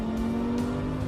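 An Audi R8 road car lapping the Le Mans circuit, its engine a loud, steady, close drone with a strong low hum, held without pause and no voices.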